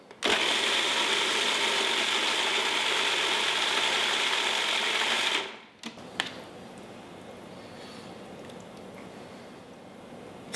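Food processor pulsing olive oil and herbs for chimichurri, a loud steady whir for about five seconds that stops abruptly, followed by a few light clunks and quiet background.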